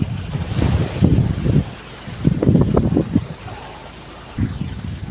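Wind gusts roar across the microphone at sea in uneven bursts, with the wash of strong waves beneath and quieter lulls between.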